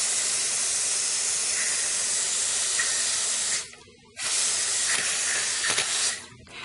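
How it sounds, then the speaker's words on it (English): A spray tool lays CerMark marking coating in test passes to one side: a steady close hiss of spray with one short break in the middle, then a brief final burst. "let me get a couple test sprays going off to the side here"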